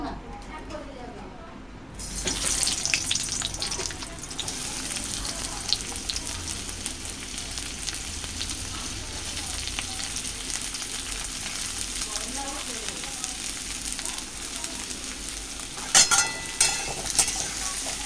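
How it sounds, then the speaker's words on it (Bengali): Food frying in a pan with very little oil, a steady close sizzle with scraping and stirring strokes running throughout and a few sharper clinks near the end. "খুব অল্প তেলে এখন রান্না করি আমি।"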